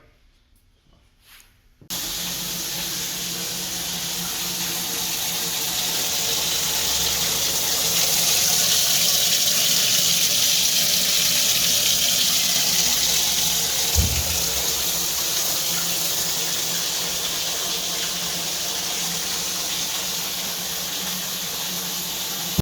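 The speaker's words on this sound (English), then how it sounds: "what I'll do now is I'll turn it on, start filling it up, and we'll get it going" A Rhima 231 inline dishwasher fills its tank with a steady, loud rushing hiss of water that begins suddenly after a quiet moment and runs on continuously, with a brief thump midway.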